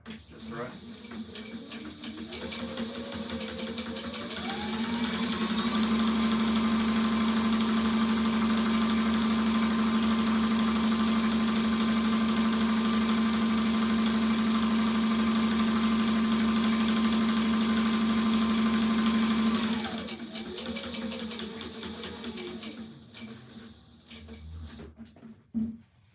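A sewing machine stitches a rigger's belt, its motor winding up to a steady, loud whine that holds for about fifteen seconds before slowing and stopping.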